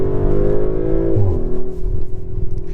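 A 2023 Audi RS5 Coupe accelerates hard, its engine a loud, close, rising drone with a brief dip as if shifting gear, then pulling strongly again.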